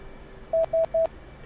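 Three short, evenly spaced electronic beeps come from the cockpit of an F/A-18 in the DCS combat flight simulator, sounding clearly over a quiet, low hum as an option-available alert.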